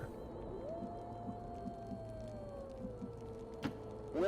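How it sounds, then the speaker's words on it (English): A wolf howls somewhere in the background of XCOM 2: one long, faint, drawn-out wail that slowly rises and then sinks, with low ambient game noise underneath and no speech. "there's like a wolf just screaming in the background"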